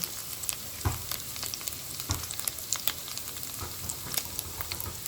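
Meatballs fry in oil in a pan over a gas flame, giving a steady crackling sizzle with scattered sharp pops and occasional stirring clatters, close up and with no talking.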